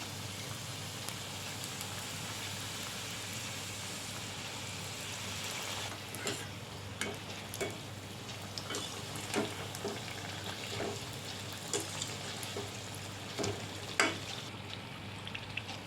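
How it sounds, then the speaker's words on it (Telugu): Stuffed onion vegetable sheet rolls deep frying in hot oil produce a continuous bubbling sizzle, with sharper crackles and spatters growing more frequent in the second half. "సిమ్లో పెట్టుకొని ఫ్రై చేసుకోవాలి."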